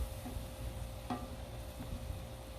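Milk stirred into gravy on a Blackstone griddle gives a faint low sizzle with soft scraping strokes and one brief clink, heard at a distance.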